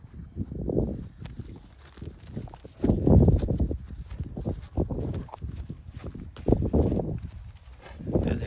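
Draft horse hooves clip-clop along at a walking pace, several uneven footfalls close by, with occasional rustling and no voices.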